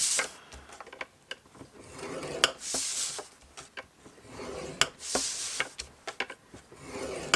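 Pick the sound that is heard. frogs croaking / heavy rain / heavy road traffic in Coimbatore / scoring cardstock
scoring cardstock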